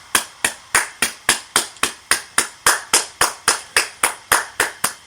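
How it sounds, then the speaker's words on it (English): About twenty evenly spaced hand claps from one person, sharp and close, keeping a steady rhythm throughout with no talk. "Get him a round of applause."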